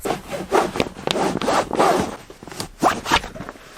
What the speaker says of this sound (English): Ah, the zipper came off.